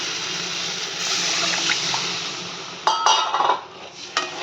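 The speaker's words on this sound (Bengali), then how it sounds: "ভালো করে নাড়াচাড়া করে জল দিয়ে দেবো 1 বাটি" A bowl of water being poured into a curry of fish with turmeric and salt in a pan: a loud rushing pour with hiss and bubbling, followed by a few clinks and splashes.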